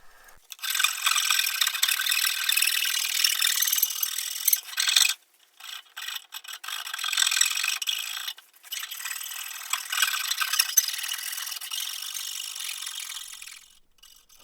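Hand sanding of a wooden yarn bowl with cloth-backed sandpaper, a steady close rasping rub in long continuous strokes with a few brief pauses, no talking.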